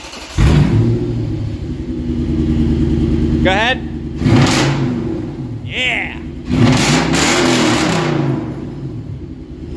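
Toyota Sequoia V8 engine with stock exhaust starting and idling with a steady low rumble, then sharp revs rising and falling several times, close by, with people talking over it.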